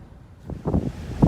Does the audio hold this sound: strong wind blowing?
yes